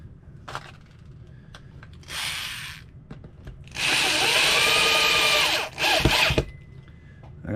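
A power drill driving screws into a cheap guitar kit body, close-up, with two bursts of whirring, the second longer and steady, and a short final spin amid small handling clicks.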